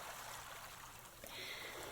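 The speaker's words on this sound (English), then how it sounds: "I'm going to invite some beautiful sounds of the ocean." Faint ocean waves wash in a soft, continuous rushing hiss with gentle swells, heard alone without any voices.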